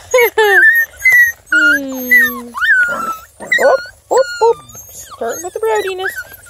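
Seven-week-old mini beagle puppies whimper and yip in a run of high, wavering cries and short yelps, loud and close, with a person's voice mixed in among them.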